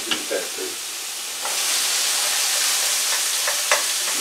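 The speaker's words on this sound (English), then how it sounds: "Love the smell of the sauteed onions and pepper." Onions and peppers sauté beside pork chops in a hot pan, a dense steady sizzle that swells louder midway, with a few soft stirring clicks and no voices.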